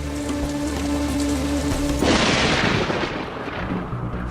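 Heavy monsoon rain in the world's wettest place, a steady loud downpour that swells into a denser, more intense roar about halfway through, with no voices.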